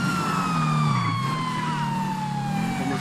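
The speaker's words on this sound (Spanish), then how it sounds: "Vamos a encender la sirena para que me den espacio al pasar." A police Corvette siren in GTA V wails steadily and loudly, sweeping slowly downward over a low engine drone, continuous throughout with no talking.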